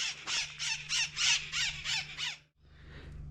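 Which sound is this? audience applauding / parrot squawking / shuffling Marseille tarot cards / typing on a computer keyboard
parrot squawking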